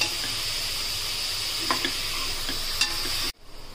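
Grated bottle gourd for kaddu ki kheer fries and gets stirred in a pan, giving a continuous close sizzle with a few light scraping stir sounds, then the sizzle cuts off abruptly near the end.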